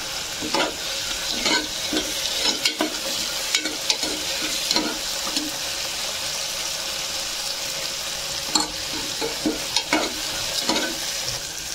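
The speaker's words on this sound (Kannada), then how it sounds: "ಟೊಮೊಟೊ ಹಾಕ್ಕೊಂಡಿದ್ದೀನಿ, ಸ್ವಲ್ಪ ಬ್ರೌನಿಷ್ ಬರೋ ಥರ ಬಾಡಿಸ್ಬೇಕು ಅದನ್ನು" Tomato and mint leaves sauté in a pan with a steady sizzle, punctuated by repeated scraping stirs of a spoon against the pan, close and moderately loud with no talking.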